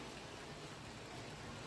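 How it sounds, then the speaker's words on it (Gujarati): Steady rain falls during a monsoon downpour outside a home garden, a dense even hiss of drops on surfaces, moderately quiet and continuous with no voices. "મિત્રો તમે જોઈ શકો છો કેવો વરસાદ આવે છે"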